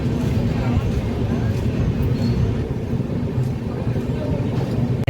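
A Simhapuri SF Express with LHB coaches runs after leaving Kazipet railway station, giving a steady, loud low rumble and rattle that stays even throughout.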